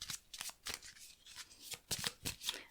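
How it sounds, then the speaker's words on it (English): A deck of tarot-style cards is shuffled by hand, a rapid series of crisp papery riffles and slaps in uneven bursts, close and fairly quiet, without speech. "I got to shuffle them up"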